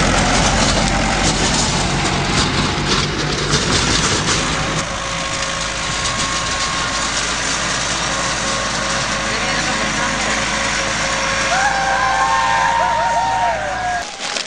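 A tractor engine rumbles steadily close by throughout on farmland in Temucuicui, its low drone continuous with slight shifts in tone.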